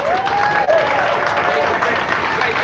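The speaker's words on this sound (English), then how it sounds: "let's give a round of applause for the man, the myth, the legend" A round of applause fills a boxing press conference in San Diego for Andy Ruiz, steady dense clapping and crowd noise throughout, with a faint voice tone drifting over it.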